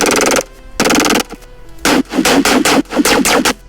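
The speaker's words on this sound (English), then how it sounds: "Kind of just like a plucky sound with a little bit of modulation." A bright, buzzy Serum synth plays short plucked bass-patch notes with slight modulation in a choppy rhythm, bursts starting and cutting off sharply with brief gaps between phrases.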